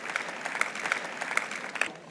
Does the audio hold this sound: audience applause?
yes